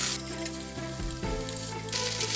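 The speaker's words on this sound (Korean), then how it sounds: "다음엔 햄을 한번 이렇게 볶아서" Ham stir-fries in a pan for mini gimbap, giving a continuous sizzle and crackle with a couple of brief scraping stirs partway through and no talking.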